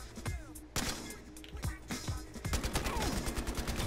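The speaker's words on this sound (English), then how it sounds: "Who the fuck's shooting at my friend?" Rapid exchanges of gunfire in the multiplayer shooter Battlefield Hardline, sharp close shots in irregular bursts building to a steady rattle, with faint voices in the background.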